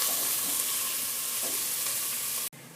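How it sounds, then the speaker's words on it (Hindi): Onions frying in a pan until golden, a steady close sizzle filling the moment before cutting off abruptly near the end. "और प्याज में गोल्डन कलर आने तक फ्राई करेंगे इसे।"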